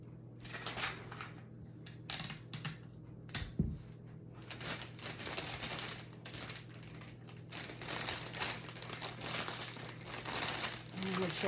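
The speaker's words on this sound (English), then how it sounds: "I'll just start taping" Tape being pulled and pressed onto a Dollar Tree gift box, a series of faint crinkling rips and rustles at close range, with soft talk underneath.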